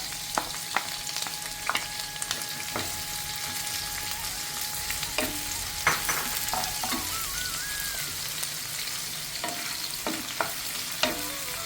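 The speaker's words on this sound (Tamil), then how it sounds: "வெங்காயம் பச்சை மிளகு எண்ணெயிலேருந்து நல்லா வதங்கணும்" Onion and green chili frying in hot oil with a steady sizzle, stirred with a spoon that makes scattered sharp scraping clicks against the pan throughout.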